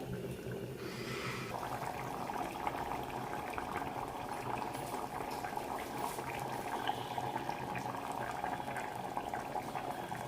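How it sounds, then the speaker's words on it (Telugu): Mutton gravy still bubbling in a hot clay pot after the stove is switched off, a steady, dense simmering gurgle with constant popping, close and continuous throughout, with no talking. "కింద స్టవ్ ఆఫ్ చేసినా కూడా ఎలా ఉడుకుతుందో ఆ వేడికి."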